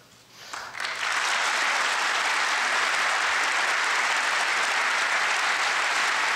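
Loud applause swells up within the first second at a State of the Union address and then continues steadily, a dense wash of clapping from a large crowd.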